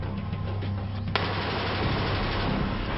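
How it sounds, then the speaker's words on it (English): A sudden burst of automatic gunfire cuts in loudly and keeps rattling for a couple of seconds, following a low steady background. "he releases a burst of automatic fire."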